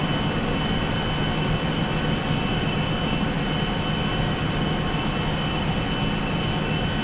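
Jet airliner engines roar steadily on a takeoff roll in a GTA flight simulator game, a loud, continuous broadband rumble and hiss that holds even with no voices.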